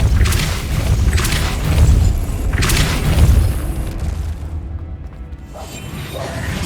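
Depulso spell cast in the Hogwarts Legacy video game: heavy whooshing booms and crashes in two or three loud surges, then a brief lull and a fresh rising burst at the end.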